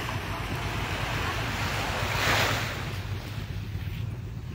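Ocean surf washes onto a beach at Ternate, Cavite, a steady roar of waves with wind buffeting the microphone and one swell building louder midway.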